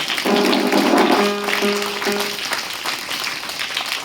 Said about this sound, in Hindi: आनंद कुमार के लिए जोरदार ताली हो जाता है